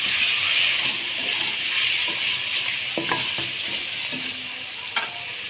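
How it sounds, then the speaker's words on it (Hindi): Chicken with capsicum and spices sizzling and frying in a pan, a loud continuous hiss with a few scattered stirring clicks and scrapes, close up and with no talking. "एक 2 मिनट इसको भूनना है।"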